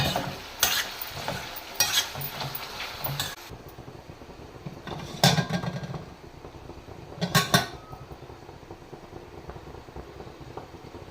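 Green chillies, coriander, mint and curry leaves stirred into hot frying oil crackle and sizzle up close, with bursts of scraping and clattering from the spoon against the pan before the sound settles to a softer fry.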